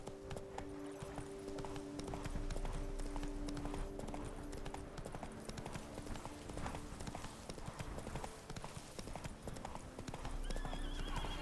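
Roach, a horse in The Witcher 3: Wild Hunt, gallops with a steady rapid clip-clop of hooves and gives an occasional whinny, set against a continuous in-game ambient bed.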